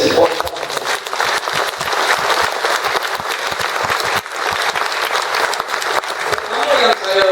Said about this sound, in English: a big applause for Malaysians